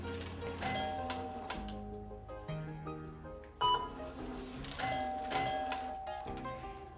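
An electronic doorbell chimes repeatedly as a distraction during down-stay dog training, its tones ringing out at intervals in an otherwise quiet room.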